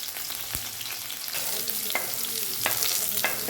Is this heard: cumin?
yes